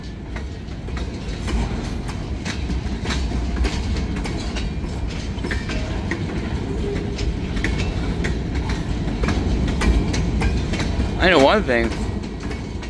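A long freight train of about 80 cars rolls by with continuous rumbling and clickety-clack of wheels, a brief wheel squeal near the end, and someone speaking briefly over the noise.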